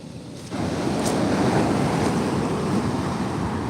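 Ocean surf on the Oregon coast builds into a loud, roaring wash of breaking waves after a brief quieter moment, with heavy wind noise buffeting the microphone throughout.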